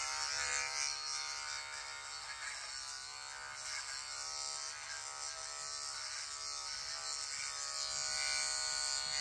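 An electric shaver buzzes steadily and continuously while shaving, a close, even electric hum with no pauses and no talk.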